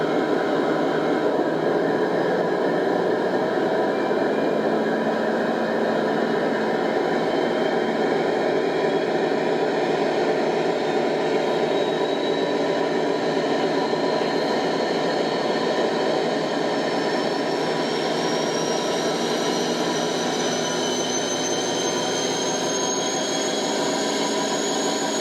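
A Heljan Class 56 model locomotive fitted with a Loksound V5 XL sound decoder plays its diesel engine sound with the throttle opened and speed locked at zero, a loud steady rumble with a rising whine building over time.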